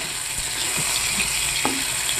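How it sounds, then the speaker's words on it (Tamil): Carrots and beans fry in hot oil in a pan for a Maggi omelette, giving a steady close sizzle with a few soft stirring scrapes and clinks. "எண்ணெய் சூடாயிருச்சு, இதுல வந்து நம்ம கேரட் பீன்ஸ் போட்டுக்கலாம்."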